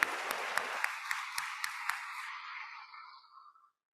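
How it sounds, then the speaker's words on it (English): An awards ceremony audience gives a closing round of applause, a dense wash of clapping with a few evenly spaced sharper claps that fades out over about three seconds into silence. "if we could give one more round of applause"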